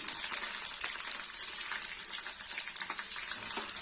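Chopped onion and garlic sautéing in oil in a pan, a steady bright sizzle and crackle held at moderate level with faint stirring.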